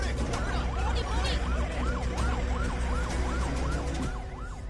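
A wailing ambulance siren in a Telugu movie scene sweeps up and down in a steady repeating cycle, loud and continuous over a dense bed of traffic and crowd noise.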